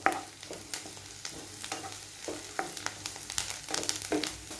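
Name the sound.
ginger garlic paste sautéing in pan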